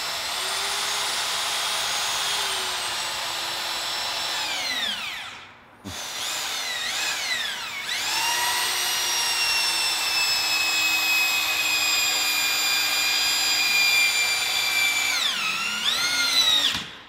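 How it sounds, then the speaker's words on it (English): A slow, variable-speed drill drives screws into stacked logs at shifting speeds, winding down briefly before spinning up again in long, steady whirring runs, close and loud. "the slow speed, variable speed drill like that is what's needed to put those screws in"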